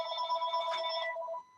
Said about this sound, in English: oh, there goes my other phone